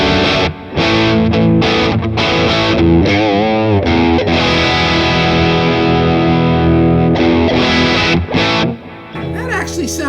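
An electric guitar plays through a Boss Katana amp's line out with heavy distortion, loud sustained chords and riffs with brief gaps between phrases.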